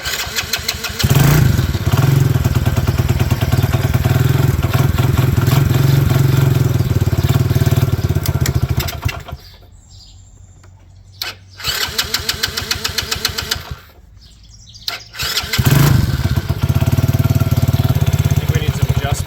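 A power washer's small petrol engine fires up from choke and runs loud and steady close by, cuts out briefly twice with quieter gaps, then roars back to a full run.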